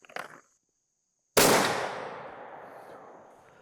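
One loud, sharp muzzleloader rifle shot fires a Hornady Bore Driver FTX 50 caliber, 290 grain bullet over Triple Seven powder at a 100-yard range, the crack decaying into a long rolling echo after a brief quieter sound and silence.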